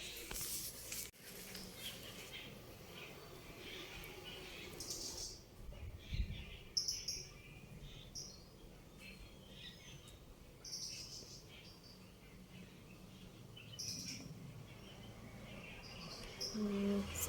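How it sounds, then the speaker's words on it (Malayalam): A small bird chirps indoors in a house, brief high tweets scattered over a quiet room with faint insect-like background noise and no talk. "എൻ്റെ വീട്ടിലൊരു ചെറിയൊരു കിളി വന്നിട്ടുണ്ട്."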